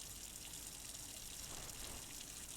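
Tap water gushing steadily in a Japanese horror video game, a faint, even broadband rush with no break and no voices.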